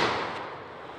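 A 12 gauge shotgun fires a single shot at an outdoor shooting range, a sharp loud blast at the very start that decays into a long, fading reverberant tail.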